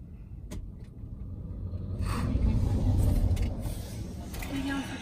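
A camper passes on a road near Milner Dam, its rumble swelling from quiet to a loud peak mid-way and then easing off, heard from inside a car with low voices.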